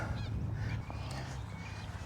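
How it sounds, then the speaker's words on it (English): Geese honking at the Mornington Peninsula Rose Gardens, a few scattered calls over a steady low hum of background noise, moderately distant and fairly faint. "Now look at the geese"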